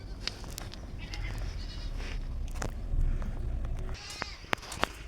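Goats bleating nearby, including a Nubian and Alpine cross nanny and her two male kids, with several overlapping calls in a farmyard in Karabastau near Shymkent, plus a few sharp clicks.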